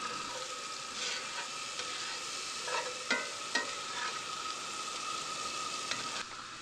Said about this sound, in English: I'm going to start with sautéing these onions